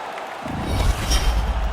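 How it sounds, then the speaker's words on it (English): Arena crowd in an NHL 22 hockey game swells into loud, roaring cheers after a big hit, a broad wash of voices building quickly and holding steady. "They are pumped in here. Yeah, this crowd on fire now here in the arena."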